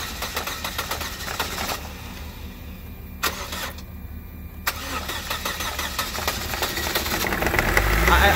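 A Chevy Cobalt engine with a suspected blown motor cranks in bursts and catches, then settles into a steady running rumble that grows louder toward the end.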